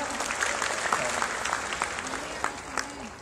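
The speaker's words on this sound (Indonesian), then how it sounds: "Tepuk tangan dulu buat MC kita yang sangat meriah tadi" An audience applauds the MC at a Kopdar Saudagar Nusantara business gathering. The clapping is moderate and steady but fairly faint, with a voice and some crowd chatter running over it.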